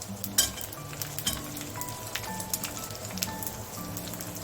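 Mustard seeds, dried red chillies, curry leaves and asafoetida crackle and sizzle in hot oil for a dhokla tempering, sharp pops over a steady hiss, with faint tonal clinks in the background.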